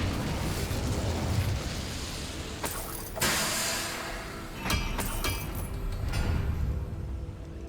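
Incendio fire spell cast in Hogwarts Legacy, a roaring burst of flame with sharp cracking bursts over a dense low rumble, loud and close, fading after several seconds with no speech.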